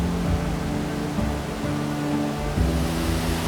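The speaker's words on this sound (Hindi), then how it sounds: "रास्ते में ये खूबसूरत वाटरफॉल दिखा, चीना कनाल वाटरफॉल।" Chinna Kanal waterfall beside a road near Munnar, Kerala, gives a steady, dense roar of falling water, loud and unbroken, with faint low hum beneath and no voices.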